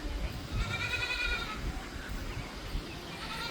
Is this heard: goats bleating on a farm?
yes